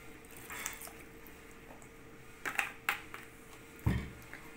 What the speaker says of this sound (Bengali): দেখো এটাকে ভালো করে রগড়ে রগড়ে ধুয়ে নিচ্ছি।